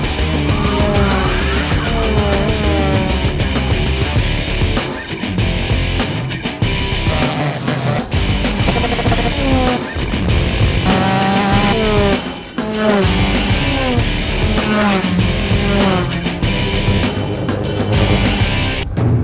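Race cars roar around a track in a dense, loud blend of engines with rising and falling pitches as cars pass, along with tire squeal and skidding.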